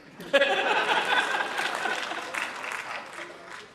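A few audience members clap at a Hindi poetry recital (kavi sammelan), a thin scattered patter with some chuckling, heard under a speaker's voice.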